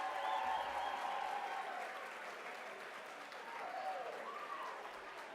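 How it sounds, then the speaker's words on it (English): Audience applause at a 2014 ceremony honoring a family: steady, dense clapping from a crowd filling the room, slightly easing midway then swelling again, with faint voices mixed in. "Let's give a round of applause for Dan and Helen Fitzpatrick."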